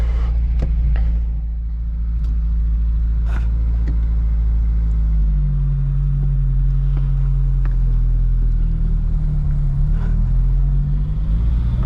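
A 1971 Vauxhall Firenza idles in a steady low rumble on a fall day in Ontario, the engine note even and continuous with faint clicks over it.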